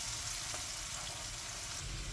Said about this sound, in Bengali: এখন এটাকে আমি একটু ভেজে নিব।